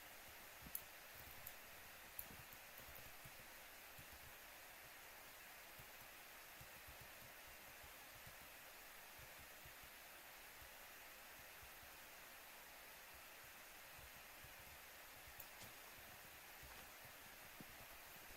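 Computer fans running at full speed during Minecraft play give a steady, faint broadband whoosh that holds evenly for the whole stretch, with a few tiny clicks on top.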